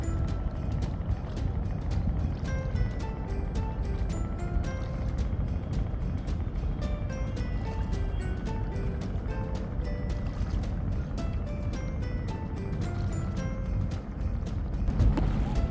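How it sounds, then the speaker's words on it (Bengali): A rowing boat moves on the Karnaphuli river in the evening, its paddling giving a constant, close wash of water noise, with a faint melodic tone line running over it. "সেই সাথে নৌকার ছলাৎ ছলাৎ শব্দ এত মধুর"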